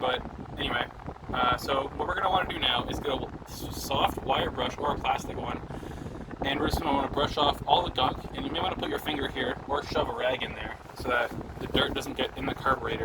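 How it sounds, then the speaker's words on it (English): Electric fan blowing air onto the microphone in a workshop, a steady rough rumble and buffeting throughout that fluctuates in strength, with someone talking continuously over it. "Okay, so I'm sorry about the fan"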